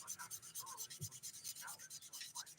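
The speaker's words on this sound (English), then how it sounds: "I'm using the 180 grit side of the sponge file, which works nicely as a buffer" Rhythmic rubbing strokes of the 180 grit side of a sponge file buffing a fingernail, steady back-and-forth scratching close up, fairly faint with no talk.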